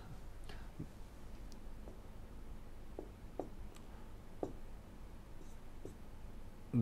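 Chalk or marker taps and strokes on a board during a structural analysis lecture, heard as faint, sparse short marks spaced through a quiet room with no talking.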